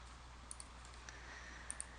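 Faint, sharp mouse clicks sound on a computer as Excel sections are expanded and collapsed, two quick pairs of clicks separated by a second of quiet room hiss.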